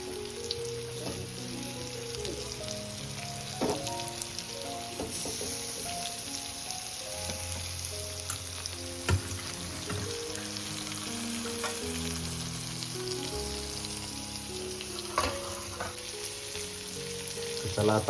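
Prawns fry on a tawa with a steady, close crackling sizzle that runs the whole time beneath background music.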